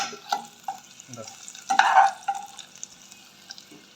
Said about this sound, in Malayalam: കടു വറുത്തിട്ടതിന് ശേഷം പിന്നെ നമ്മളാ മുളക് ഇഞ്ചി വെളുത്തുള്ളി ഇതെല്ലാം കൂടി